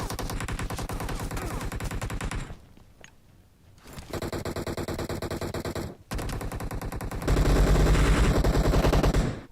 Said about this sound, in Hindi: जिस हिसाब से गोलियां चल रही है